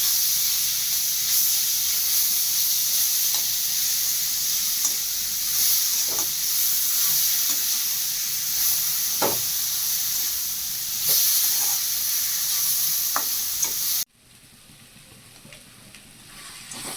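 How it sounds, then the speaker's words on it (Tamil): Raw mango pieces sizzle and hiss steadily in hot oil while being stirred for mango rice, with occasional scraping spoon strokes over the constant frying noise, close and loud before the sizzle abruptly drops away. "எல்லாத்தையும் நல்லா கலந்து விடலாம்."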